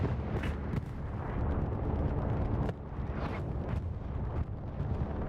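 Bombing-run explosions in a multiplayer war game strike near a tank: a dense, continuous roar of heavy blasts and rumbling impacts, loud and sustained with no pauses, one sharper burst near the end.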